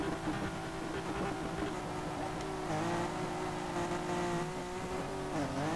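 A Renault Laguna in the racing game Street Legal Racing Redline makes a second-gear launch, its engine droning steadily with rising and dipping revs, loud and continuous with no talking.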